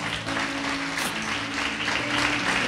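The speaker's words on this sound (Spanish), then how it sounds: "Yo te invito a que le des un fuerte aplauso al Señor." Steady applause from a church congregation fills the whole stretch, with music sustained underneath the clapping.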